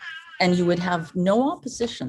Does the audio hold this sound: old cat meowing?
yes